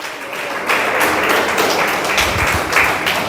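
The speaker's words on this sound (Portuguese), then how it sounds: "Querido, você pode aplaudir o Senhor?" A church congregation breaks into applause during a worship service, a dense wash of clapping that swells suddenly and holds steady and loud across the room.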